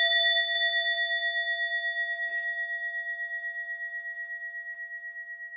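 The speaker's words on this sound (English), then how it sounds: "And then so ring the bell." A single mindfulness bell rings out clearly and then sustains, its pure tone slowly fading over several seconds in an otherwise quiet space.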